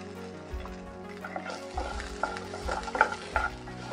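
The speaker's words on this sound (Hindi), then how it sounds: "इन सबको अच्छी तरह से भून लेते हैं।" Chopped onions and whole spices sizzle in a kadai for a kadai paneer gravy as a spoon stirs them, giving close, soft scraping and crackling frying sounds that grow busier toward the end.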